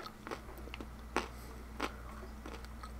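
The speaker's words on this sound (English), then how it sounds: "Sorry if you can hear me chewing. Got some nuts." Someone chews nuts, with several sharp crunching bites spaced irregularly over steady background hum, close to the microphone.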